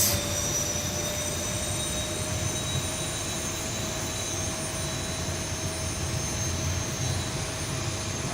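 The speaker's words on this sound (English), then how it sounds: "And here those engines come alive." Jet engines of a Boeing 737-800 run up in a flight simulator game, a steady, loud whine and roar holding even throughout with no voices.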